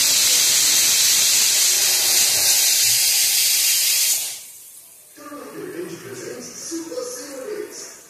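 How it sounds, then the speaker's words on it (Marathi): Garam masala roasting in a pan gives a loud, steady steam-like hiss for about four seconds, then cuts off abruptly, leaving softer crackling and a faint voice. "थोडा गरम मसाला, सर्व छान 2 मिनटं भाजून घ्यायचं."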